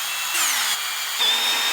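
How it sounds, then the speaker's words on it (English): Power drill boring holes into wood and aluminum for a cane sword build, with two bursts of high whining motor and grinding bit, pitch shifting as it loads, close and loud, no talking. "I'm going to drill some holes, just kind of poked in here."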